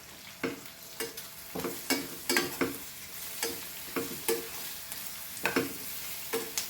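Turmeric and coriander powder masala with taro roots is stirred in a hot pan, a rhythmic series of about a dozen scraping strokes over a low, continuous sizzle, close and clear with no talking.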